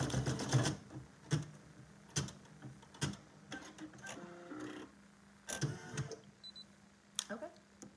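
A Brother PE800 embroidery machine stitches with a steady low motor hum, broken by sharp clattering bursts that repeat at irregular intervals, close and fairly quiet.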